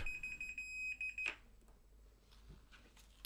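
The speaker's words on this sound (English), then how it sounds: "And we've got a beep." A steady, high-pitched electronic beep from a Fluke 8021B multimeter continuity test sounds continuously for over a second, then cuts off, leaving faint clicks and handling noise.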